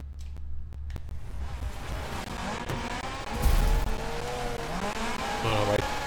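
Car in the Gravel off-road racing video game braking too hard, a continuous engine and tyre rumble with skidding scrapes and a louder surge midway, engine pitch rising and falling near the end.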